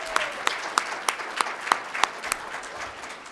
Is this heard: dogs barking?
no